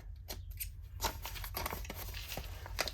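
Non-stick scissors snipping through an envelope in a run of soft, close cuts and paper rustles, quiet against a low background hum.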